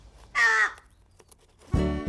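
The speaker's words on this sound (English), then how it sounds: "Betty the Crow is trying to get a treat out of a long, thin tube." A crow gives two loud, harsh caws close by, separated by a second of quiet, with the second call lower and rougher.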